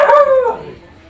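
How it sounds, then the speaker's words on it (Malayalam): A single loud, close dog bark rings out, a sharp yelping call that fades within a second. "ഏതോ ഒരു പട്ടിയെ കണ്ടിട്ട് ഭയങ്കര കുരച്ചിലാണ്."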